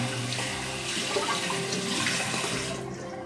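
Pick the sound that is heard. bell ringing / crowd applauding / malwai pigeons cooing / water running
water running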